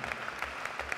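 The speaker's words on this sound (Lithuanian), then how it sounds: "Plojimai, garsus plojimai mūsų šokėjams." An audience claps for dancers at a university wind orchestra's festive concert, giving a brief, fairly soft patter of mixed clapping from a hall crowd.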